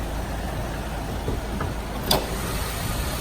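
A 2018 Subaru Forester 2.5-liter four-cylinder boxer engine idles with a steady, quiet low hum. It holds even throughout, with one brief higher-pitched tick or squeak partway through.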